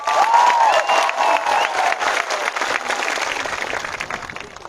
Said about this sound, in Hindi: रंजन बाबू के लिए बड़ा हाथ दीजिए, ताली दीजिए।